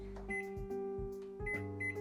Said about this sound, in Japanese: で電子レンジでだいたい何分ぐらいかな、600ワットで